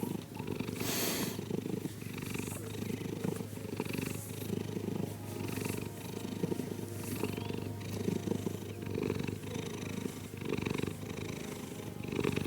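Close, steady cat purring in a slow rhythmic cycle of rumbling breaths, continuing throughout with no voices.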